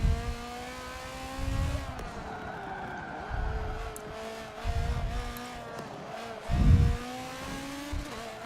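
A race car in the video game Forza brakes, drops down to second gear and powers out of the corner, its engine rising in repeated revving surges with some tire noise, loud and close with no talk.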